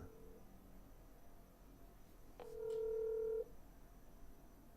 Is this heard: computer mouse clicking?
no